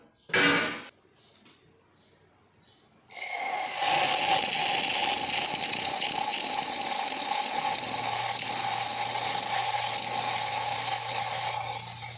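Steam wand of a Rancilio Silvia espresso machine opens after a few brief clicks and near-silence, releasing a loud, steady, close hiss that continues without a break, with a low hum joining near the end.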